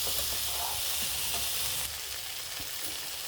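Potatoes and soybeans fry with spices in a pan for an Assamese curry, giving a loud, continuous close-up sizzle and hiss with light stirring scrapes underneath.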